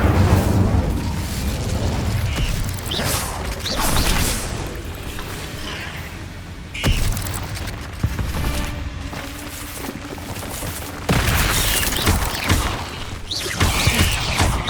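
Fire spells cast repeatedly in Hogwarts Legacy, loud whooshing bursts and booming impacts recurring through a busy combat sequence with layered game effects.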